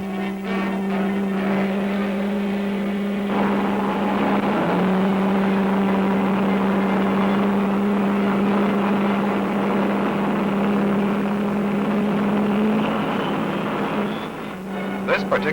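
A Douglas C-133 propeller cargo aircraft at Dover Air Force Base runs its engines with a steady, loud droning hum and rising roar, with a voice talking over it at times.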